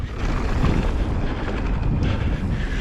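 Steady whirring drone of a Skydio 2 camera drone hovering overhead on a mountain biking trail, a continuous buzzing hum mixed with wind noise, fairly close and unbroken throughout.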